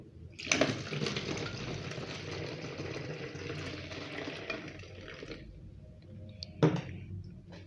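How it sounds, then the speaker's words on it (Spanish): Water pours into a container for a homemade garden fungicide mixed from baking soda, milk and water, a steady splashing fill for about five seconds, then a brief clunk and a fainter trickle. "Comenzamos primero echando el agua."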